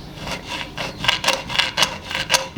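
A tool scribes a line on wood for a trellis jig, producing about eight short, scratchy rubbing strokes in a quick, fairly even rhythm, close and moderately loud.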